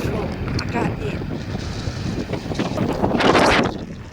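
Gusty wind blowing across a microphone outdoors at a home in Laos, buffeting rumble rising toward the end, with someone talking over it.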